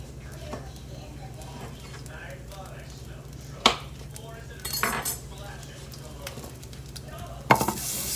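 Eggs cook in a hot pan with butter on a stovetop turned up to 7, giving a continuous sizzle. A few sharp clinks of utensils against the pan cut through, and there are brief bursts of louder spitting.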